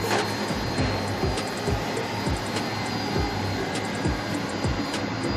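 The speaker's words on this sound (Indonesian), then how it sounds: "Ini untuk displaynya lagi proses printing. Ini untuk speed lumayan cepat ya." An Epson F6270 sublimation jersey printer runs steadily through a print job, its continuous mechanical whir punctuated by regular swooping sweeps of the moving print head, close and even in level.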